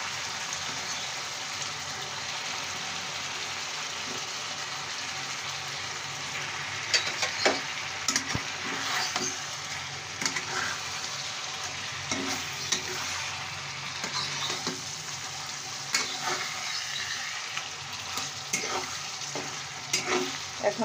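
Fried shing fish go into a pan of cooked-down tomato curry and are stirred, with a steady loud sizzle throughout and scattered scraping knocks of the spatula against the pan.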